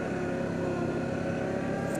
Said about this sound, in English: I'm impressed with the noise of this engine. It's a good sounding engine, very quiet.